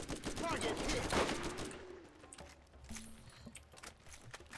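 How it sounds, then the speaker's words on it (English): Loud rapid gunfire from the player's own weapon in Borderlands, a dense burst of shots in the first two seconds followed by quieter scattered shots, with a voice talking over it. "My gun is extremely loud."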